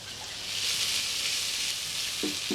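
Crushed garlic cloves sizzle steadily in a hot pan, a loud continuous hiss that swells shortly after they drop in, heard up close without any talking.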